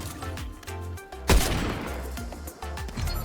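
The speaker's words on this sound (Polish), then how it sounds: "O, strzały tam są." A sudden loud burst of gunfire in Fortnite erupts over busy game sounds and music, followed by ongoing rattling shots at moderate volume.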